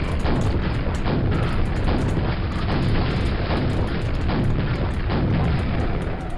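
Rocket launcher explosions in the PC shooter Quake, Episode 5, rumble as a dense, continuous series of loud booming blasts. They come steadily, one after another, with no pause for the whole stretch and no talk over them.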